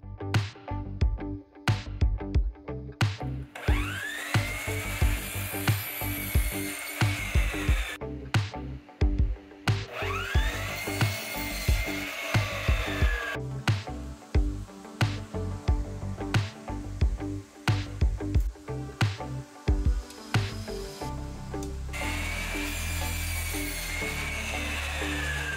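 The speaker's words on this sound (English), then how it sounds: "you want to cut the end of the molding at a 45 degree angle" Power saw making a series of short, loud cuts through wooden picture frame moulding at a 45 degree angle, bursts separated by brief pauses, with a whining blade tone running between cuts.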